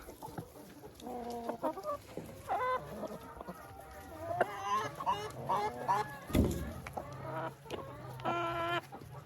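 Chickens and young roosters cluck and call repeatedly while pecking at soaked bread, a busy close flock with overlapping bursts of clucks and one sharp low thump midway.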